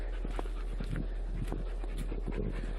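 A dog pants quickly and rhythmically close by, quick breathy huffs repeating over a low steady hum.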